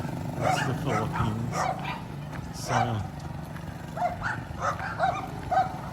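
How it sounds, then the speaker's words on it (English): Several dogs barking and yipping repeatedly in the Philippines, fairly near, with someone talking over them throughout. "pardon the dogs"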